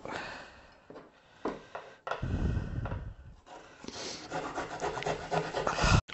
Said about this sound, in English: And peel the ginger. And just grate it.